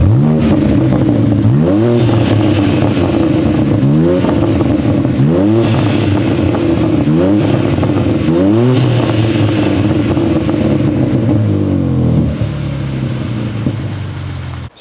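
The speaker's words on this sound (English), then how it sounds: "let's go have a conversation about the exhaust and get some revs" BMW G82 M4 Competition fitted with a Remus titanium exhaust revs repeatedly, five or six sharp rising blips over a loud idle, then settles to a quieter burble.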